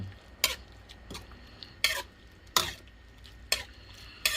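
A ladle scraping and clinking against a metal pot while serving sweet leaf curry with red ant eggs into a bowl, about six sharp scoops at irregular intervals over a faint background hiss, no speech.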